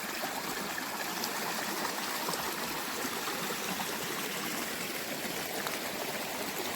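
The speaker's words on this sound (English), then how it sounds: "want to share the sound of this water." A creek flows along a forest trail on the hike to St. Mary's Falls, giving a steady, close, continuous rush and trickle of water with no voices.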